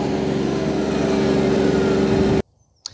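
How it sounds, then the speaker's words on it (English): Iseki TLE3410 compact tractor travelling on a road, its engine a steady loud drone with a constant pitch, close by, then abruptly cutting out near the end with a brief clunk. "It's a really good tractor on the road."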